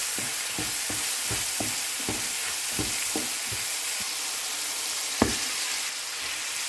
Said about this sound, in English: Then mix the rice by flipping.